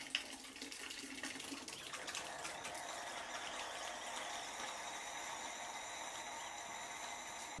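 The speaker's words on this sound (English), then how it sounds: "then I hit the faucet on until the 1 gallon of water and caustic just kicks like a beer" Water with caustic cleaner runs steadily through a kegerator beer faucet, a continuous hissing gush that starts slightly louder and settles into an even, unbroken flow with no voices.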